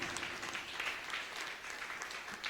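A church congregation claps together in steady, dense applause, at a moderate distance and fairly faint, with no clear speech over it.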